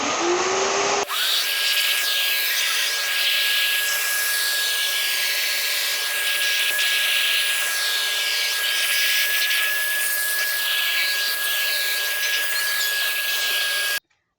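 A Dawlance wet and dry vacuum cleaner runs steadily and loudly, close by, with a constant whine and rushing airflow as its nozzle works along wall corners, starting up abruptly and cutting off at the end.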